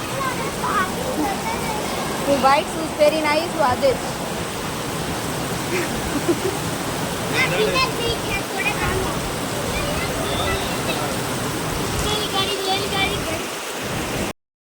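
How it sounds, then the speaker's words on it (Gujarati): Heavy rain falls in a loud, continuous roar lasting throughout, while someone talks over the steady downpour and other faint voices mix in. "ફૂલ વરસાદ ચાલુ થઈ ગયો છે."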